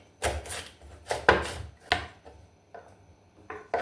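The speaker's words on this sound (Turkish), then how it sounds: "Yine havucu da küçük küçük doğrayacağım." Several sharp knife chops on a cutting board as carrots are diced small, in irregular bursts, close and fairly loud, with short pauses between groups of strikes.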